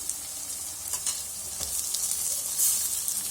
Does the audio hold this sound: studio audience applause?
no